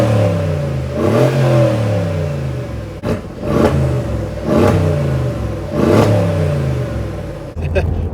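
A Mercedes G63 AMG twin-turbo V8 in a lifted G-Wagon revs repeatedly, each loud rising blip swelling and falling back to a rumbling idle, about five surges in a row with a voice talking over parts of it.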